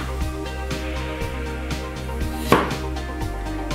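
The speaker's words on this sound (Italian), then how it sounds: "le andiamo a tagliare il più sottile possibile, perché più le tagliamo sottili e più ci metteranno poco tempo a cuocere" A kitchen knife slices vegetables as thin as possible on a board, producing a steady series of soft, close chops with one sharper knock partway through.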